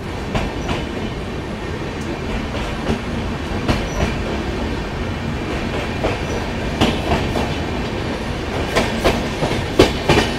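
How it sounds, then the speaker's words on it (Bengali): A passenger train running just after leaving Bolpur station on the way to Rampurhat: a continuous close rumble with rhythmic clickety-clack wheel beats, heard throughout without voices. "রাইট টাইমে ট্রেন কিন্তু ঢুকে গেল বোলপুর, আর ট্রেন ছেড়েও দিয়েছে"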